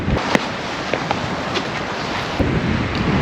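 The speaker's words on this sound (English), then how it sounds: "And that is a lake breeze. It's definitely breezy." A steady breeze at Lake Minnewaska rushes across the microphone as a broad, continuous wind roar with a few faint knocks, no talking.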